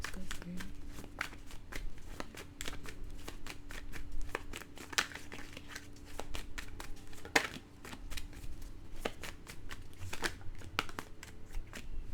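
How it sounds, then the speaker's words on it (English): A tarot deck is split and shuffled by hand, giving a steady run of crisp card riffles and soft slaps, close and fairly continuous, with quiet room noise underneath. "I don't remember splitting the deck. I'll do it again."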